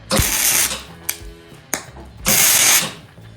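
Tack welding on a demolition derby car: two short bursts of loud, crackling hiss about half a second each, separated by a quieter gap with small clicks, up close.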